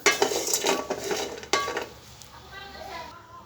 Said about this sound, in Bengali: তো রসুন পেঁয়াজগুলো ভাজি করার জন্য চুলায় চলে এসেছি দিয়ে দিলাম রসুন পেঁয়াজগুলা